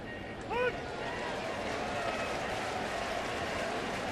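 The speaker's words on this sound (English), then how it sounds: "A sarcastic cheer from the folks here at Busch Stadium." A baseball crowd at Busch Stadium gives a sarcastic cheer, a broad, distant rise of voices and scattered applause that holds steady through the clip, with a faint whistle near the start.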